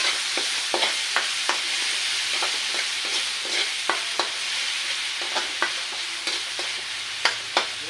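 Small-cut hotdogs fry in a hot pan under a constant sizzle, punctuated by about a dozen sharp scraping knocks of a utensil stirring them, with no talking.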